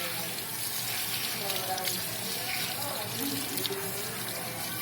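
Tepid tap water running steadily while protein product is rinsed out of hair, a continuous moderate gush and splash with a faint voice murmuring underneath.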